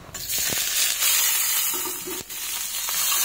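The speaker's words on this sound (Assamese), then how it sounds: "অলপ মই লৰাই চৰাই শাকখন ভাজি লওঁ।" Leafy greens stir-fried in mustard oil in a pan, giving a loud, close, continuous sizzle with a few sharp clicks and scrapes of stirring and no voices.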